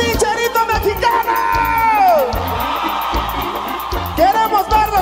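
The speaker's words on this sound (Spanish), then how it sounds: "¿Y dónde está ese pinche grito mexicano?" A live concert crowd at a show lets out loud, sustained Mexican gritos and whoops, rising and falling yells layered over one another with band music underneath.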